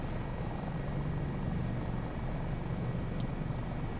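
A Dauphin helicopter in flight in Microsoft Flight Simulator 2024, a steady, loud rotor and turbine drone with a low throbbing beat, continuous and unchanging throughout, with no voices.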